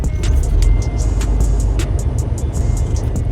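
A Freightliner Cascadia truck with a 10-speed manual transmission drones loudly from close inside the cab while double-clutch shifting, its heavy engine rumble steady with faint clicks of the clutch and shifter.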